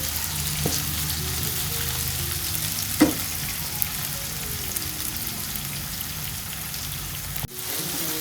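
Ingredients for tomato chitranna frying in a pan, a constant close sizzle like rain on a surface, broken by a couple of sharp knocks, without any voice.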